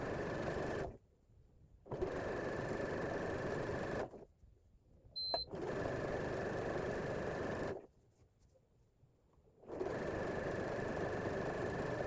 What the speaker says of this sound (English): I just turn it the other way and sew it top stitch on this side.